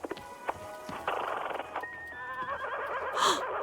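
A horse neighs in the Wanderstop video game, a short whinny rising over soft tonal game music, with a few light knocks early on and no voices.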